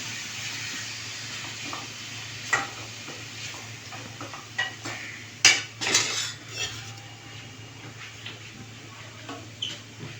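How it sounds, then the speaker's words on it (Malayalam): A spoon scrapes and clinks against a pan while ground cardamom and cumin are stirred into a sweet chakka ada filling, with irregular sharp taps over a low steady hum. "ഏലക്കായ, ജീരകം ഇതൊക്കെ പൊടിച്ചത് അതും കൂടെ ഇതിലിടാം. നന്നായി മിക്സ് ചെയ്യുക."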